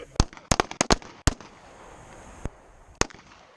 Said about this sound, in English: Everybody but HK, fire.